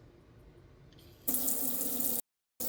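Water gushes loudly from a newly replaced kitchen or bathroom faucet, a steady close rush that stops abruptly for a moment, then starts again at full flow.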